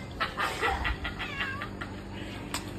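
A chicken clucks in a quick run of sharp, close calls, followed by a few scattered softer sounds, with no talk over it.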